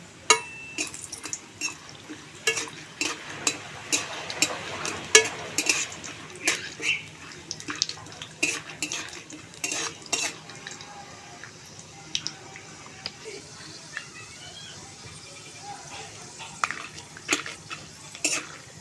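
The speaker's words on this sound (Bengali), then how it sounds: "তেল গরম হয়ে গেছে আর কিছুটা কাঁচা বাদাম নিয়েছি তেলের মধ্যে দিয়ে কাঁচা বাদামগুলো আমি ভেজে নেব" Raw peanuts frying in hot oil in a pan, a soft continuous sizzle broken by frequent clinks and scrapes of a utensil stirring against the metal, with brief pauses in the stirring.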